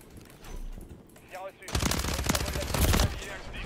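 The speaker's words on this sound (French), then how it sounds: "J'ai tiré dans deux gars, j'ai pas eu les kills." Rapid automatic gunfire in Call of Duty MW3 rattles in a dense burst for about two seconds, loud and close, following quieter game sounds, with someone talking over part of it.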